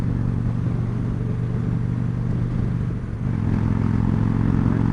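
A 2015 Victory Cross Country motorcycle cruises in sixth gear with a steady, loud low engine drone and wind rush. The tone dips briefly around the three-second mark and then holds again.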